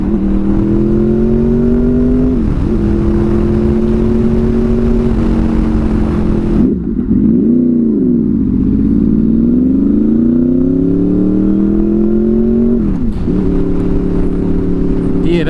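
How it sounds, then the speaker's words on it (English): Honda VFR800 motorcycle with a Power Commander V pulling hard in second gear as the VTEC engages, its engine note climbing steadily and loudly, dipping briefly at a shift, then rising again under heavy wind rush. "that Vtech in second gear kicks in hard"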